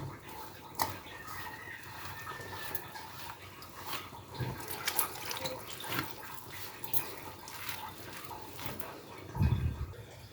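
Dough for spinach paratha being kneaded with water by hand, soft wet squelches and slaps in an irregular rhythm, close and fairly quiet, with a few louder thumps.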